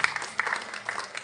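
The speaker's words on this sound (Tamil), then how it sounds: "எல்லாருக்கும் மீண்டும் ஒரு முறை கரகோஷம் எழுப்பி" Brief scattered clapping from an audience at a Tamil temple festival program, a few people applauding in uneven bursts, moderately near.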